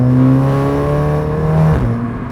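Audi S3 engine pulling steadily in its comfort driving mode, a loud continuous drone with rising harmonic tones as the car accelerates, heard from inside with no talking.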